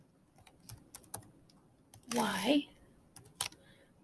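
Computer keyboard keys are tapped in short, scattered clicks, close and fairly quiet, around a brief burst of speech.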